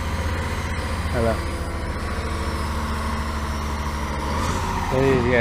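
A truck engine runs steadily near the water while a boat is lifted in, a continuous low rumble with a couple of brief rising whines and a short hiss, with voices talking over it.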